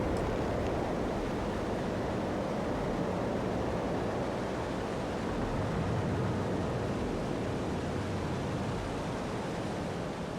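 A waterfall in the game Starfield rushes as a steady broadband roar throughout, continuous and fairly loud in the background with no voices.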